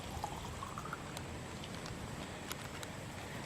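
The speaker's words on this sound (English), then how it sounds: "So nice and slowly, we'll just pour that back in the bottle." Water poured slowly back into a bottle, a soft continuous trickle with a faintly rising pitch as the bottle fills, quiet and steady with no one speaking.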